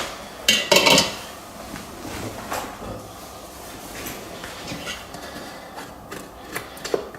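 Cooked refried beans being scraped back into the metal insert of an Instant Pot, with a loud clatter of metal on metal early on, followed by quieter rubbing and scraping noises.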